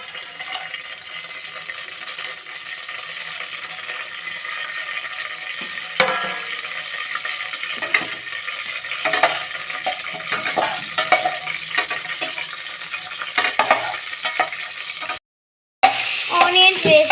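Sliced onions frying in oil for veg biryani give off a continuous crackling sizzle with occasional stirring scrapes, then a brief silence before the sizzle resumes.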